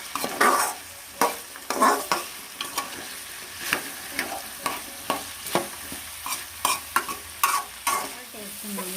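Okra (bhindi) is stir-fried in a pan with tomatoes, giving a close sizzling hiss broken by regular scraping stirs and ladle knocks, roughly one every half second, with no voices.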